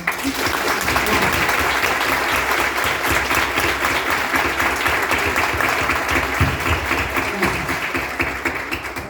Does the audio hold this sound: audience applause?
yes